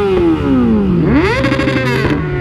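A motorcycle that had overheated and would not start is roll started: the engine catches and its droning pitch slides down, then climbs and revs up loudly before settling into a steady, close idle.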